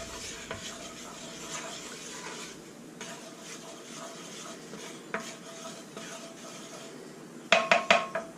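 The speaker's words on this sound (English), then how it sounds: "You got to constantly stir the roux." Spoon stirring an oil and flour roux in a worn enamel cast iron pot, soft continuous scraping with light clinks, then a quick run of sharper knocks against the pot near the end.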